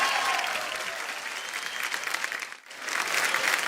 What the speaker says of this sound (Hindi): एक बार जोरदार तालियां सर के लिए हो जाए